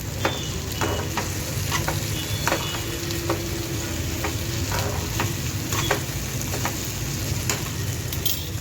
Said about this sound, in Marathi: भाजी थोडी परतवून घेऊ.